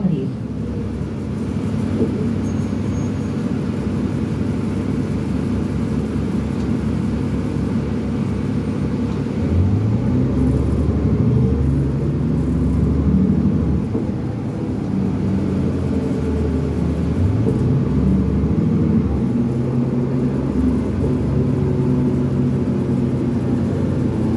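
A retired SEPTA D40LF transit bus, number 8035 with a NABI exhaust pipe, runs on route 68, its diesel engine giving a loud, steady low rumble throughout with rising and falling tonal whine.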